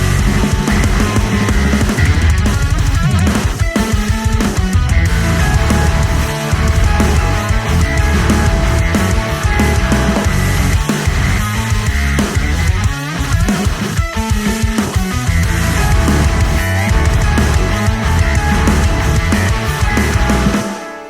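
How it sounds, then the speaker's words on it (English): Layered synth and guitar parts play a dense, loud riff together in a metal-style arrangement, driving steadily and continuously for about twenty seconds with no talking. "This is what the synth layer and that added guitar layer sound like together."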